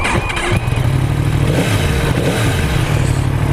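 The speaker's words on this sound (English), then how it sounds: "Got a lovely exhaust note too. The addition of the Akropovich can just gives it a more throaty sound" A 2016 Yamaha YZF R1 fitted with an Akrapovic exhaust can rumbles steadily at close range, its deep throaty note holding a constant idle-to-light-rev throb throughout.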